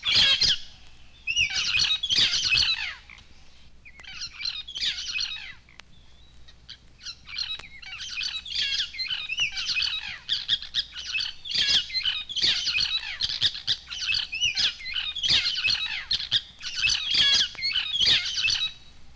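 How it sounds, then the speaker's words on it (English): Red-eared parrots calling in a humid southeastern Mexican forest, a flock chattering and squawking in repeated bursts, sometimes almost warbling, with brief pauses between volleys, fairly close and continuous. "Red-eared parrots converse in a humid southeastern forest. They almost warble at times."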